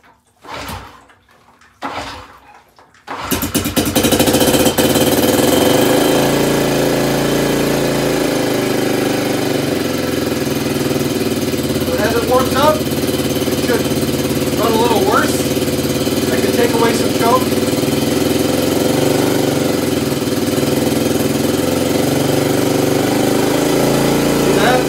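A Honda CT90 Trail 90 motorcycle is kickstarted with a few thumping kicks and sputters, then catches and settles into a loud, steady single-cylinder idle running close by for the rest of the clip.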